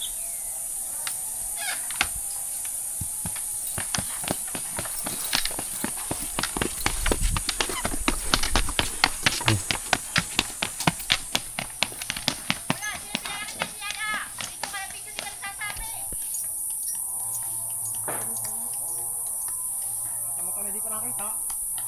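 A strong working horse hauling a load up a steep, slippery slope, its hooves clip-clopping in a quick, uneven rhythm close by, with people talking over it and birds in the background.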